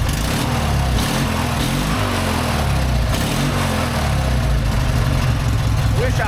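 A race lawn mower engine runs loud and close, holding a steady rough drone with slight pitch wavers as the throttle shifts, and a voice is faintly present under it.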